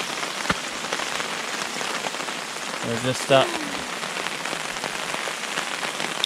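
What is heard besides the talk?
pouring rain at camp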